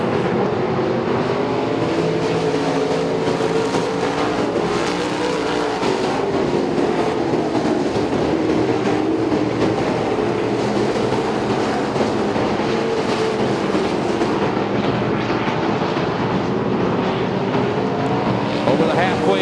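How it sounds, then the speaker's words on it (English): Race cars battle closely on a speedway track, producing a continuous, loud engine roar and rumble. An announcer talks over the noise throughout. "3-car battle there for 5th."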